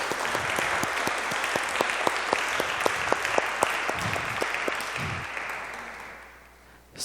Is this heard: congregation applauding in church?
yes